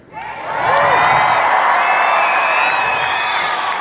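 Crowd of children at a youth rally cheering loudly in a room, a sustained roar of high shouts and whoops rising quickly and holding steady.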